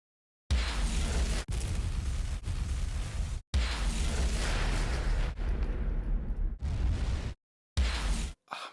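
A series of loud, booming explosion effects with whooshing blasts, several bursts separated by brief silent gaps, close and forceful with no talking.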